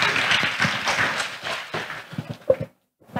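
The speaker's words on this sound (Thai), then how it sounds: "ขอเสียงปรบมือให้ท่านด้วยครับผม" A seated audience at a food-industry talk on plant-based solutions applauds for a speaker, a dense patter of many clapping hands that thins into a few scattered claps before falling silent.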